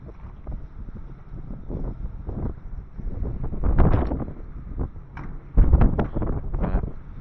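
Gusty outdoor wind buffets the microphone in uneven rushes and thumps, swelling and fading irregularly and loudest in a few strong bursts, with no speech.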